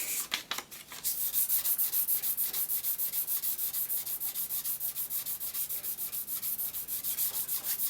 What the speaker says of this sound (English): And you want to lightly sand to help flatten out any overfilled material.